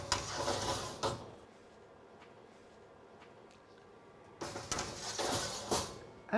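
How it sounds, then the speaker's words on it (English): A Convotherm mini combi oven in a fast food kitchen has its door opened and trays of bacon and hash browns slid in, with clattering, sliding bursts at the start and end and quieter kitchen ambience between. "So Connie, would you be so kind and open the door?"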